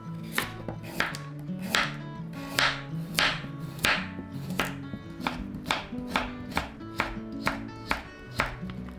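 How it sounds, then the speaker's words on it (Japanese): A knife julienning a washed, unpeeled carrot on a cutting board, a quick steady run of crisp close chops against the board with no talking. "千切りします。"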